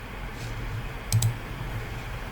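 A mouse button clicks twice in quick succession on a download button in a Windows 11 browser while installing Notepad++, a faint close double click over a low steady room hum.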